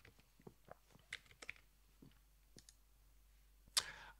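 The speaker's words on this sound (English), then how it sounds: "Let's type finance." Close, quiet typing on a computer keyboard: scattered single key clicks at an irregular pace, a pause, then a louder clack near the end.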